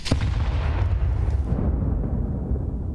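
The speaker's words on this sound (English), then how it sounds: "Nade lands." A grenade lands and explodes in Counter-Strike during a pro league match, a single loud close blast whose rumbling low boom fills the whole moment and slowly fades.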